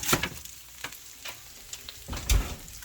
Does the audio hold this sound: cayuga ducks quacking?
no